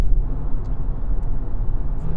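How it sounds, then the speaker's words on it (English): A Hyundai Tucson Hybrid SUV accelerating on the road, a low continuous rumble of engine and road noise heard from inside the cabin, fairly steady with slight fluctuations and a few faint clicks. "This car just accelerates so smoothly without any effort"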